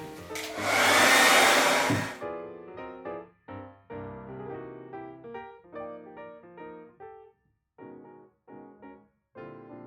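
A hair dryer blows loudly and steadily for about two seconds, drying freshly spread varnish on a painted canvas, then cuts off, leaving quieter intermittent tones behind.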